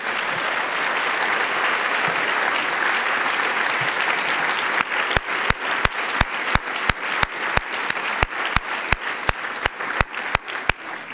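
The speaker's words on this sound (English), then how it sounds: "could you just give one more round of applause to the Savers?" Loud, sustained audience applause for award winners at an awards event fills the room, then gives way to a steady run of sharp, evenly spaced claps or clicks.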